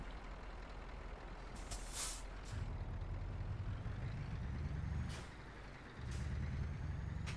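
A truck in Euro Truck Simulator 2 brakes to a stop, with a low engine rumble that drops as it slows and sharp hissing air-brake bursts standing out over it, fairly quiet and steady.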